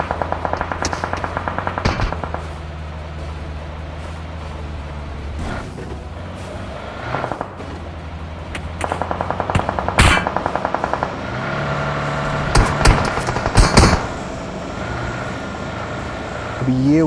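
Gunfire rings out in the mobile battle-royale game PUBG Mobile during a shotgun challenge, with bursts of rapid shots coming in clusters over a steady engine-like drone. Some are sharp and close, others softer, and a voice talks throughout.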